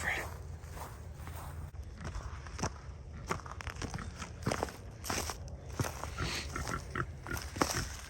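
A pig grunts low and repeatedly among crunching footsteps outdoors, the snorts short and irregular, fairly close, with people talking at times.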